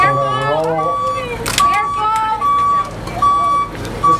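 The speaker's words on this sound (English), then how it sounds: "we're all just be mindful of that truck." A truck sounds its reversing beeps at an outdoor commemorative gathering, a run of evenly spaced electronic tones under a man addressing the crowd, with a brief loud burst partway through.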